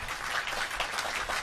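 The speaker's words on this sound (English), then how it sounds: "Give her a big round of applause." An audience applauds at a graduation ceremony, giving dense, steady clapping that lasts the whole moment at a moderate distance, with no voices on top.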